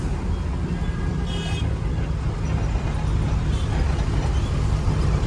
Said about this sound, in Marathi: ट्रॅफिकनं लय अवघड केलंय.